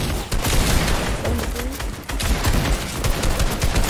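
Rapid gunfire from a video game rattles in dense, overlapping bursts that run nearly unbroken for about four seconds, loud and close, with a low rumble beneath the shots.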